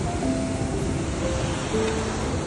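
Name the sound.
rushing glacial river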